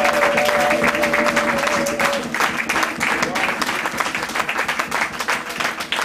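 A church congregation applauding: loud, continuous clapping from many people filling the space, with a few voices among the hands.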